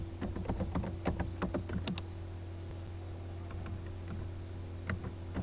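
Quick clusters of keystrokes on a computer keyboard while entering a narration in Tally ERP 9, soft and close, over a steady low hum, pausing midway before a few final taps.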